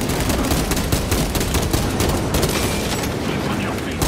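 Dense, continuous gunfire in Space Marine 2 during a battle at a breached northern wall, loud rapid automatic bursts and booms blending into a constant roar throughout.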